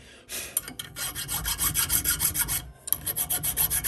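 Old metal file rasping over a rusty froe blade in steady back-and-forth strokes, close and fairly loud, with a brief pause before the rhythmic filing resumes.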